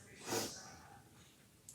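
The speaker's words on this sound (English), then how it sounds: "I apologize for the sniffles." A woman with seasonal allergies gives a sharp nasal sniff, loud and close, then faint breathing trails off in a quiet indoor room.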